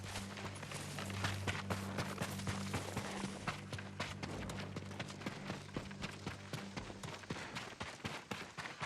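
Horses' hooves clip-clop in the video game Ghost of Tsushima, a fast, steady run of hoofbeats over a low droning score, slowing and thinning near the end.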